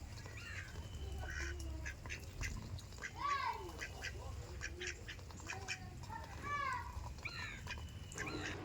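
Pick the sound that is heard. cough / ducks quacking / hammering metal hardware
ducks quacking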